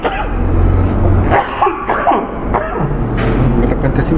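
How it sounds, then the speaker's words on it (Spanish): A man breaks into a coughing fit while teaching a Spanish-language Bible lesson, giving several harsh, close, broadband coughs in quick succession over a steady low room hum. "De repente sí me dan ataques de tos y está ya empezó."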